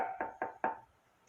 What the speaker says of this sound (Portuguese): Eu estou batendo aqui no meu violão